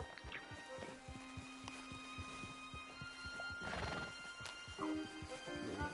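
Horses in Red Dead Redemption 2 walking at a slow, even clip-clop pace with a whinny or two over quiet outdoor ambience. Hooves and tack sounds stay close, and nobody speaks.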